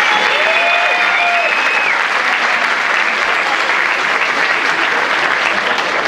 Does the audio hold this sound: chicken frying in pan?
no